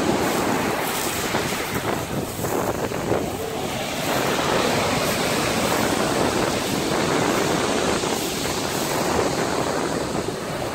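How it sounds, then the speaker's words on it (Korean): Waves roll and break continuously on Kongdol Beach, a pebble shore on Baengnyeongdo island, a loud, unbroken wash of surf mixed with strong wind buffeting the microphone. "동해안에서 파도 치는 것 마냥 그렇게 오네."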